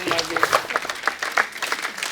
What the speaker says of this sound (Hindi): जैकी सर के लिए जोरदार तालियां।